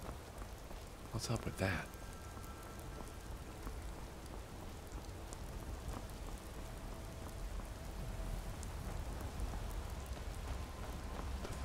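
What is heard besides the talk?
thunderstorm rain in the video game Skyrim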